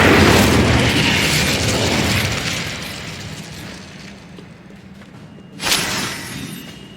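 A fire spell cast in the Hogwarts Legacy video game gives a loud whooshing burst at the start that tails off over several seconds. A second sharp blast follows near the end.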